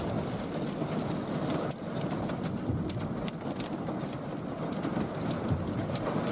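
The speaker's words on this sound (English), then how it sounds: "Not large hail, but it sounds like sleet." Pea- to nickel-sized hail falls steadily near Sterling City, Texas, a dense continuous hiss and patter like sleet, loud and close, with no voices.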